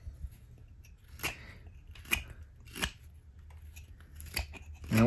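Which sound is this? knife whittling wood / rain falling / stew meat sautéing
knife whittling wood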